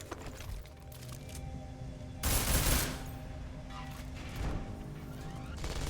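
Combat rifle fire in the video game Deus Ex: Mankind Divided, with one loud, dense burst of shots in the middle against a steady game background, and fainter bursts later on.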